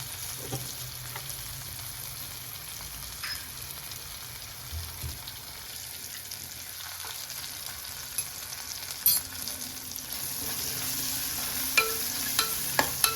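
Tempering for avalakki (poha) sizzles and fries in a pan as turmeric powder goes in: a soft, continuous crackle and hiss with small pops, heard alone and fairly faint.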